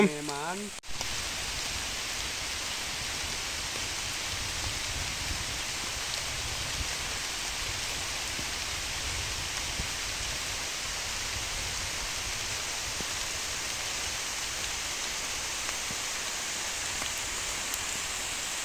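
Steady, dense rain hisses evenly throughout an all-day downpour in Thailand, a constant wash of falling drops after a brief sound at the very start.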